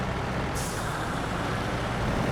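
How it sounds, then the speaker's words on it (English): Heavy truck engine in Snowrunner, a steady low rumble with a sudden hissing burst like an air brake releasing early on, continuing as an even drone. "let's see if we can't cross this in this truck"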